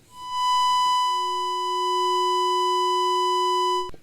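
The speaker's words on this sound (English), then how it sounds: "when we put something a little bit more complex in, like a pulse and a sawtooth," A Behringer 2600 ring modulator fed pulse and sawtooth waves produces a steady, bright, buzzy synthesized tone rich in harmonics, a lower partial entering about a second in, sustaining alone for several seconds before cutting off abruptly.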